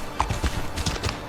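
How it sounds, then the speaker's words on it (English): Horse hooves in a video game clip-clop over stone, shod hooves giving subtle metallic clicks, several quick, close, distinct steps in an uneven gait with no talking. "as the horse stepped on the stone there, you could hear the subtle metallic sounds of the horse shoe versus it standing on earth"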